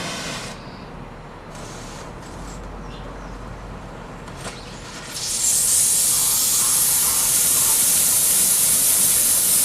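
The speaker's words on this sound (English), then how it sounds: "Turn on your acetylene." An oxy-acetylene welding torch hisses steadily and loudly once the acetylene is turned on, a continuous close rushing spray that jumps up in strength partway through and then holds.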